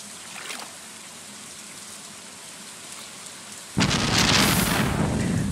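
A thunderstorm in the Stardew Valley video game: steady rain hisses throughout, then a sudden loud crack of thunder bursts in and the downpour swells heavier and rougher, with no voices.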